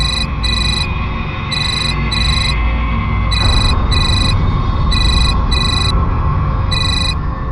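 A mobile phone ringtone plays loud and steady, its bright electronic tones repeating in regular paired bursts over a continuous background, with no one speaking.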